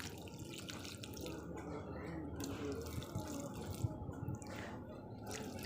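Water is poured onto potted plants, a faint trickling and dripping flow heard close but quiet, with a person talking softly alongside.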